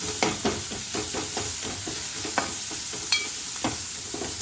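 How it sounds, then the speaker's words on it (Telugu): Ridge gourd and green chilli fry in hot oil with a steady sizzle, broken by regular scraping stirs of a spoon in the pan roughly every half second. "కొంచెం ఆయిల్లో ఫ్రై అయింది అనుకోండి"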